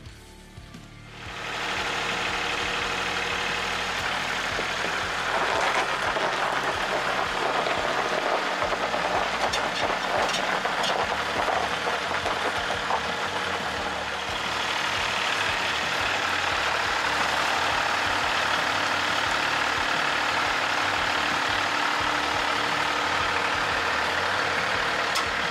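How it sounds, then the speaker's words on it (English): A Kubota L3301 compact tractor on turf tires strains its diesel engine while pulling a Chevy Express van, giving a loud, steady engine roar throughout with a slight dip partway through and no talking. "the tractor's gonna pull this thing."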